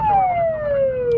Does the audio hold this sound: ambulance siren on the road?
yes